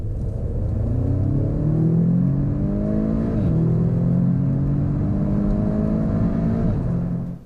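A 2-litre Audi with 306 horsepower accelerates hard from 30 to 70, its engine rumbling loudly and rising in pitch through the revs, with audible drops at two gear changes before the note fades at the end.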